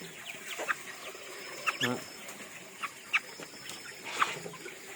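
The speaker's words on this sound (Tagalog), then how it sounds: "Healthy kay among manok." Chickens cluck intermittently before harvest weighing, short sharp calls scattered across the clip over a quiet background, fairly close by.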